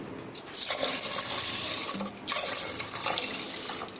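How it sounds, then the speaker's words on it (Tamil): Water pours from a cup into a pot of rice and lentils for sweet pongal, two splashing gushes of liquid with a short pause between them, close and moderately loud. "ஃபஸ்ட்டு 1 கப் தண்ணி ஊற்றிடலாம்."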